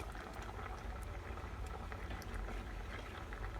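A pot of vegan Paskitan soup boils steadily, with a continuous low bubbling and popping rumble at moderate, even loudness throughout, close by with no talking.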